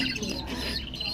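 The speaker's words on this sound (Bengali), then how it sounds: "আজকে আমি আমার পাখিদের কাছে আসছি।" Lovebirds chirping together in a home aviary, a steady bright twittering at close range that fills the short moment without pause.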